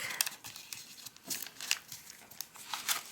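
Paper being folded into an origami pig base gives soft, intermittent crinkles and rustles, faint and close, in irregular bursts.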